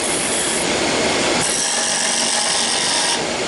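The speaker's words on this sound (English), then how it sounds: "I might even put a little bit of a round on that corner using the skew chisel again" A skew chisel rounds a wooden corner on a spinning lathe, producing a loud, continuous scraping and shaving rasp that changes tone partway through, with no speech.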